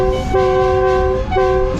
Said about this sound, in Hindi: ट्रेन ने जो है अभी डीथा रेलवे स्टेशन को स्किप किया है